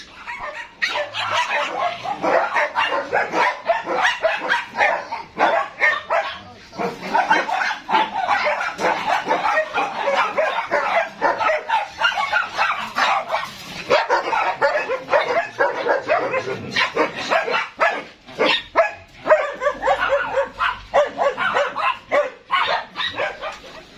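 A dog barks and yips continuously up close, an excited, rapid, uneven string of barks and whimpers with no talking.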